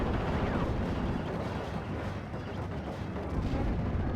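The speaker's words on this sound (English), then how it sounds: "You got a Ju-88, a heavy bombing coming in." During a Ju-88 heavy bombing run in a wartime strategy video game, loud explosions roll together into a continuous deep rumble with scattered thuds and crackles, with no voices over it.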